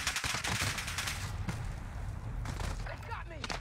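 Video game gunfire, a rapid burst of shots followed by scattered single reports, loud and close, with a player talking over it.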